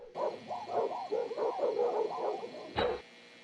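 Several dogs at a dog kennel or adoption agency bark and yip in a rapid, overlapping chorus at moderate distance, ending with a single louder bark.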